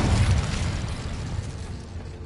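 An Incendio fire spell cast in Hogwarts Legacy gives a loud whooshing burst at the start, then a rumbling, crackling roar of flame that fades steadily over two seconds.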